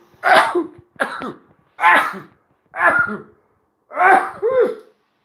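A series of five sharp, explosive sneezes or sneezy coughs in quick succession, close and fairly loud, separated by short pauses.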